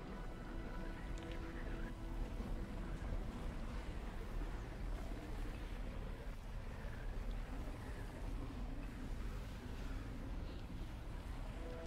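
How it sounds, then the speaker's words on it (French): Steady wind whooshes continuously in the video game Ori and the Will of the Wisps, a broad, even roar that stays at one level throughout without talk. "Il y a du vent."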